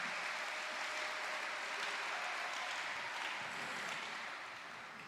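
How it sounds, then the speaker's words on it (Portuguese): A church congregation breaks into sustained applause for Jesus during a sermon, a dense, even patter of many hands clapping that gradually tapers off near the end. "Quem pode dar sorte de palmas para o Senhor Jesus?"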